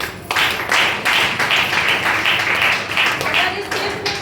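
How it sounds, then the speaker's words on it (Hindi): A crowd applauds loudly and steadily at a DXN stage event, sustained clapping running throughout with voices faintly underneath. "इस पेस्ट के लिए जोरदार तालियां।"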